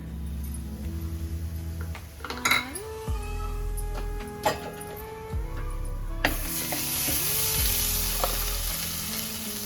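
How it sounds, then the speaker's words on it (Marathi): Byadgi red chillies and hing frying in hot tempering oil in a home kitchen for an elephant foot yam curry, a steady close sizzle with scattered clinks of a metal spoon against the pan. "ते वाटलेलं आहे बेडगी मिरची फोडणीला टाकते"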